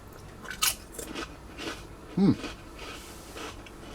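Close, crisp crunching from someone biting into Cool Ranch flavored Ruffles potato chips, with a couple of sharp bites and softer chewing between them, no talking.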